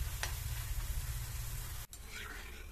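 Ginger frying in oil over a medium flame for Kerala-style puli inji gives a steady, dense sizzle throughout. It briefly drops out near the end, then resumes slightly softer.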